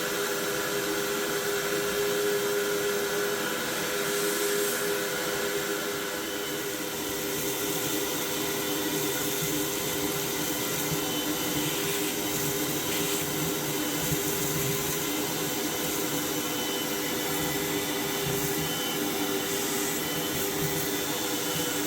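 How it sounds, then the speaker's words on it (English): A vacuum cleaner sucks ash out of a wood stove with a steady, loud, whining drone. The motor hum holds constant for the whole stretch, with faint rattles of debris and no speech. "let's get on to getting all this stuff sucked out here"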